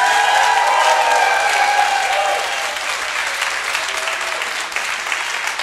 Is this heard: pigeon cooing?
no